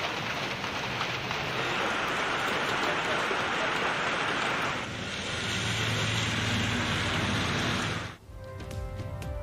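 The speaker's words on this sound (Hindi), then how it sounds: "पंजाब के बाद खैबर पख्तूनख्वा में भी बरसात" Pre-monsoon rain in Khyber Pakhtunkhwa falls as steady dense hiss, continuous and fairly close, easing slightly midway before cutting off near the end.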